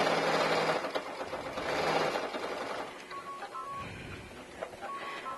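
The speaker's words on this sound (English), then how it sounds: "I'm going to sew this down, 1/2 inch seam allowance" Domestic sewing machine stitching a half-inch seam allowance on a fabric project, a steady mechanical whir running for about three seconds, then easing off into a quieter stretch with short clicks and stops near the end.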